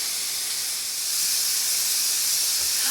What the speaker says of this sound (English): will start releasing steam like this